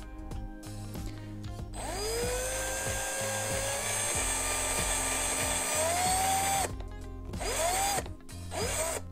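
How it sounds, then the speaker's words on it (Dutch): Power drill fitted with a 1.5 mm bit boring through paper, a loud steady whine with rising pitch sweeps as the motor spins up, briefly stopping and restarting near the end. "En dan gaan we nu gewoon er doorheen boren."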